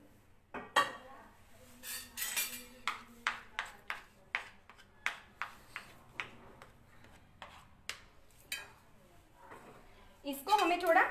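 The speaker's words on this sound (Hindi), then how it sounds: "मैं इसको एक प्लेट में डाल रही हूँ।" Sautéed spice paste scraped from a pan onto a plate in a home kitchen, a series of sharp metallic clinks and scrapes from a spoon against cookware, with someone talking at the end.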